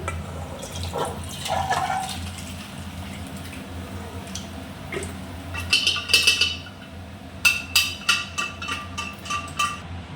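Liquid pours into a pot of chicken stew in a home kitchen, a steady watery splash and gurgle, followed by a run of light metallic clinks from a utensil against the pot.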